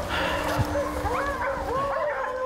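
Hunting dogs bark and yip in a busy, overlapping burst during a black bear hunt, close and loud against steady outdoor background noise, with a few whimpering tones in between.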